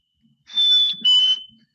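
Two bright, steady whistled notes, the second slightly lower, sung by a person mimicking a chickadee's call, close and clear in an otherwise quiet space.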